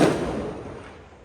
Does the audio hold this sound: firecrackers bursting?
yes